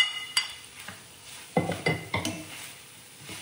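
Paneer tossed into a pan of vegetables for hakka noodles and stirred, giving a few sharp metallic spatula scrapes and clinks over a soft sizzle, close and moderately loud.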